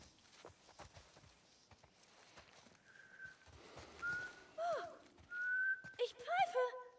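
A person whistles short, faint, wavering notes in several brief bursts over footsteps and background noise, with talk around them during a The Last of Us playthrough.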